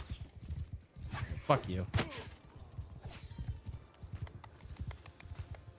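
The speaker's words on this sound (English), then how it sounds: "All right, horse, stop running" A horse's hooves clip-clop in a steady galloping rhythm in Mount & Blade II: Bannerlord, running under a man's close, frequent talk, with some sharper bursts of game sounds around the middle.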